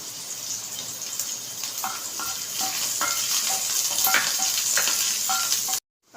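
Crushed garlic fries in hot oil with a dense, bright continuous sizzle and a few light ringing taps against the pan, loud and close, until it cuts off abruptly near the end.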